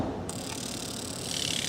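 Fuel injector fired by an injector tester on a pressurized fuel system, giving a short hissing spray burst with faint mechanical ticking, close and steady for under two seconds.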